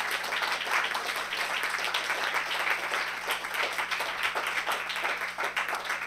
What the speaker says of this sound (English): a warm round of thanks and applause